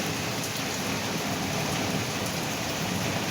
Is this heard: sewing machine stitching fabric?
no